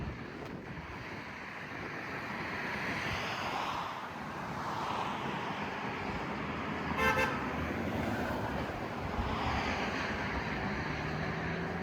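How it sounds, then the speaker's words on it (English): A vehicle horn honks once from a distance, faint and brief, over steady wind and breeze on a hilltop along the Appalachian Trail. "Hey, got a horn honk."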